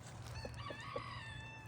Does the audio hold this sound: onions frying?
no